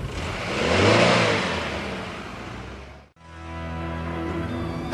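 A 1998 Honda Accord's engine revs up loudly and then eases off, dropping away to a brief gap before a steadier engine drone resumes at a lower pitch.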